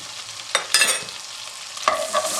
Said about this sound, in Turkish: unumuzun kokusu gidene kadar kavuruyorum